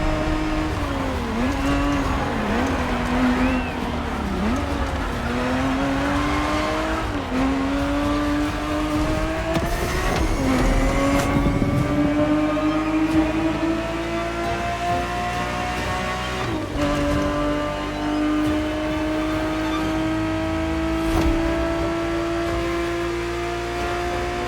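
A Ferrari 365 GTB4 races in The Crew Motorfest, its engine droning and revving steadily through repeated gear shifts, rising in pitch under constant load, loud and close throughout.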